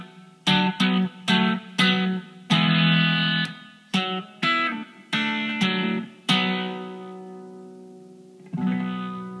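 Electric guitar with a distorted amp tone playing a riff: loud, sharply picked chords and notes in a choppy rhythm with short gaps, ending in a sustained ringing chord.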